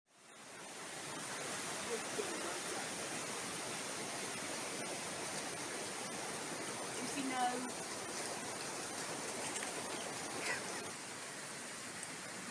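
A small woodland stream trickles into a creek near the River Dart in late autumn, giving a steady, broad rushing wash of running water throughout, close and even, with faint scattered sounds over it.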